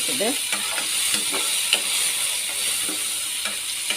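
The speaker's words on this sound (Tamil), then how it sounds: "சுண்டல் போட்டு நல்லா கலந்து" Boiled black chickpeas are stirred into masala in a hot pan. A steady sizzle runs underneath while a spoon scrapes and knocks against the pan in irregular strokes, close by.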